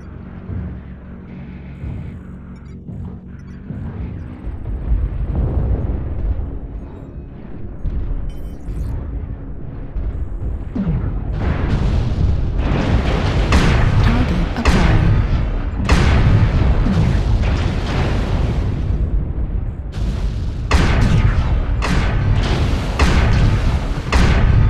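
A destroyed mech explodes in MechWarrior Online, with heavy booming blasts and rumbling impacts that swell and repeat over a loud, continuous battle din.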